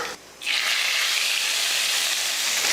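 A hot tempering of mustard seeds, fenugreek and curry leaves is poured into a kuzhambu curry. A short lull gives way to a sudden loud hissing sizzle that stays strong and close.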